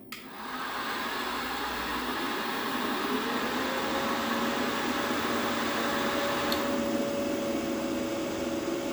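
A LuxPower SNA5000 solar inverter switches on and runs with a steady broadband whir and hiss like a fan, a faint tone rising and settling partway through, loud and continuous with no talking.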